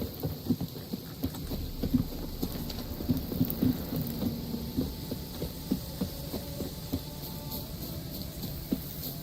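Steady rain hisses throughout in The Witcher 3 while low thunder rumbles and rolls, with scattered heavier drops pattering nearby.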